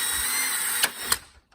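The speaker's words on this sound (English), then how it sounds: "there are plastic rivets that you've got to drill out" A power drill bores out plastic rivets on a Dodge Ram dash faceplate: a close, high-pitched whine that breaks through with two quick bursts and then winds down to silence.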